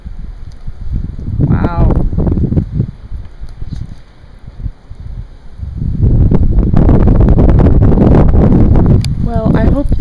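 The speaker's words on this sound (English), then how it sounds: "Ooh, oh, wind in my face." Gusting wind buffets a microphone outdoors during a March snowstorm, building into a strong, loud roar in the second half, with a person exclaiming and talking over it.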